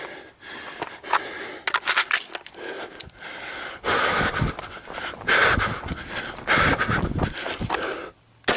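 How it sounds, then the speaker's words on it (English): Heavy, labored breathing and panting after exertion, ragged gasping breaths and sniffs close to the microphone, irregular and loud, with no talk. "you hear me really sucking wind on this camera"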